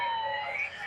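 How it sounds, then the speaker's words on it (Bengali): A police car siren near a Friday market in Kuwait, a steady, fairly loud tonal wail with no speech, heard in a brief burst. "পুলিশের গাড়ি।"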